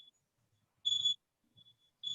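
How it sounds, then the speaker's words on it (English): A phone alarm beeps in short bright bursts during a martial arts black belt test, sounding clearly and repeating with brief pauses between chirps. "Oh, that's my 12 o'clock alarm."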